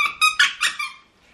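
A squeaky toy squirrel for a puppy is squeezed five times in quick succession, giving close, bright, rhythmic squeaks that fade out, with one faint squeak at the end.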